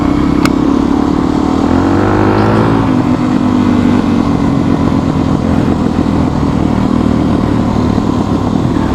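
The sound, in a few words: dual sport motorcycle riding on trails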